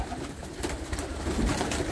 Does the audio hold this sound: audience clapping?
no